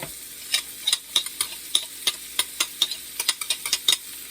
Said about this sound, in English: I'm going to put in what I've already chopped up, like 3 shallots and only about 2 cloves of garlic